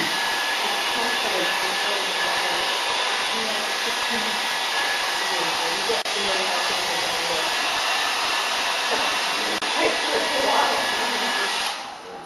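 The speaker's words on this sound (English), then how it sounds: "give it another blast, the hair dryer" A hair dryer blasts steadily and loudly over a painting for about twelve seconds, a continuous close whooshing hum that stays constant before easing off at the very end.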